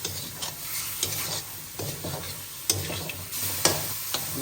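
Fish stir-fried in spices in a pan, loud continuous sizzling with repeated scraping strokes of a spatula every second or so, close up and without voices.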